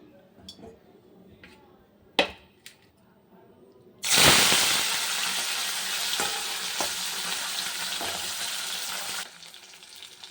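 Scattered clinks and taps, then a sudden loud sizzle as fish hits hot oil, frying steadily for several seconds before fading down.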